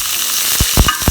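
Food mixture being stirred in a frying pan, with steady loud sizzling and several distinct scraping strokes of the utensil near the end, no voices.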